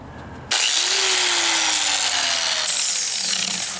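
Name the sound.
hand grinder sanding paint off metal near a weld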